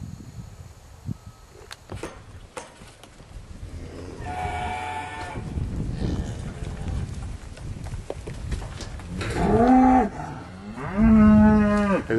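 Cattle moo loudly near the end on a silvopasture farm, two long bellowing calls rising over a busy outdoor background of shuffling and rumbling noise.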